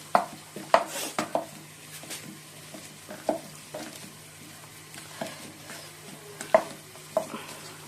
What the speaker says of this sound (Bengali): লঙ্কাটা ভেজে নিয়েছি আর পেঁয়াজটা ভাজছি